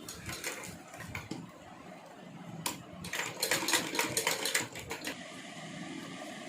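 A sewing machine runs in bursts while stitching a tiny Laddu Gopal doll dress, rapid rattling clatter that pauses, restarts and grows louder in the middle before trailing off.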